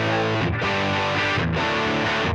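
An electric guitar played through a cheap drive pedal gives sustained, fuzzy, saturated chords. Two quick changes interrupt the steady drone, loud and close with no talking.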